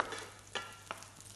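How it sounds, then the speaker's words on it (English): Yellow onion frying briefly in a pan, giving a faint steady sizzle with two short scraping stir sounds, close but quiet, with no speech. "Just cook it for a short while, because you don't want the onion to be too soft"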